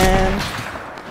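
A single Fortnite gunshot for a headshot, loud and close, with a sharp onset decaying over about a second and no other sounds.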